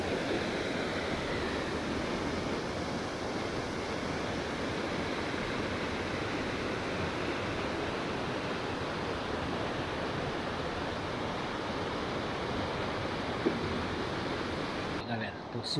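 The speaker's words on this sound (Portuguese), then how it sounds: "que show a cachoeira!" A forest waterfall gives off a steady, broadband rush of falling water. The roar is even and unbroken from start to finish.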